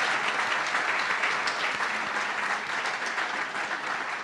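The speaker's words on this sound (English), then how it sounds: "let's have a round of applause for our generous sponsors." An audience claps steadily, a dense, even wash of applause that holds throughout without pause.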